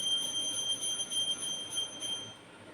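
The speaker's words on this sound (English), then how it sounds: "this is just the bell of Hindu puja being done at home" A small handheld bell rings steadily during a Hindu puja performed at home, its bright sustained metallic tones repeating continuously at moderate distance with no talking.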